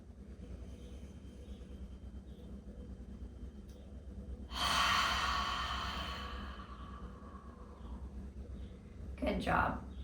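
A long, deep breath swells and fades during a guided glute-release exercise session, a drawn-out broadband rush followed by a shorter sharp intake near the end, heard over a steady low background hum.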